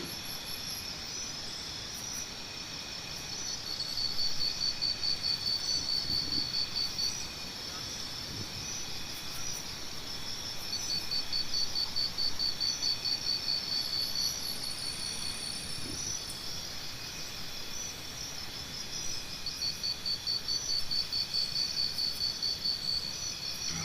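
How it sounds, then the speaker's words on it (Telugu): Crickets chirp in high, rapid trills that come in repeated waves over a constant hiss of outdoor background noise, steady and unbroken. "ఇక్కడ పగలే భయంకరమైన గబ్బిలాలు కీచురాళ్ళు అరుపులు బాగా వినపడతా ఉన్నాయి"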